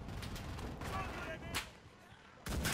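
Kar98k sniper rifle shots in the World War II game Enlisted, a few loud sharp cracks with lingering low rumble, one at the end, under a man's speech.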